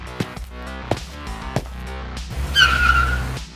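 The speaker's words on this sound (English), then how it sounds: "now I will send this car into Taco Bell and Taco Bell will be no more" A stolen car revs and skids with tire squeal, short engine bursts giving way to a loud screeching slide near the end, close and alone with no talk.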